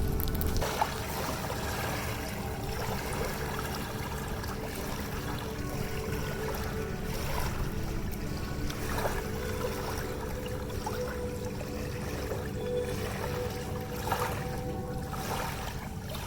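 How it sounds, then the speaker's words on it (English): On a lake, a kayak moves through the water with a continuous gentle trickle and wash, steady and moderately close with faint splashes now and then. "So now I'm on a different kayak."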